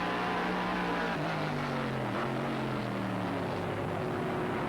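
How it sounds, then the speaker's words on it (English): Sports sedan race cars at the 1979 Australian Sports Sedan Championship at Oran Park, engines droning steadily with shifting pitch as they circle the track, loud and continuous without talk. "3rd and 4th place, quite a dice developing, in fact, potentially, between Phil Ward and Allan Moffat"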